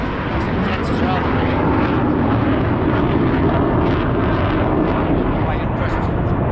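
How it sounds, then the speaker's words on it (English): Jet aircraft roaring across the sky above the Lake District fells near Coffer Pike: a loud, continuous, broadband rumble that holds steady throughout and drowns out everything else. "some jets as well."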